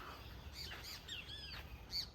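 Birds at Hungry Bay Nature Reserve in Bermuda give scattered, faint chirps and short calls over quiet background air, several thin calls in a loose, irregular rhythm.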